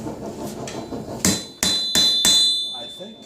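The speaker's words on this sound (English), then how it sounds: "A little bit more hammer doubling" Sharp metallic hammer blows ring out on an anvil while forging a bottle opener, a few spaced strikes growing louder, each leaving a brief ringing tail.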